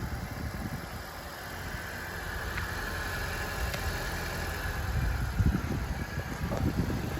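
A 2018 Honda Accord Touring idles steadily after a remote start, a low, even engine hum with mild vibration that holds for several seconds without any talking.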